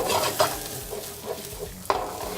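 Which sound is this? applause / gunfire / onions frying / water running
onions frying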